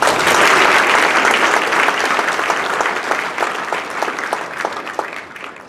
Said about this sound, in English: let's give a round of applause to the team this year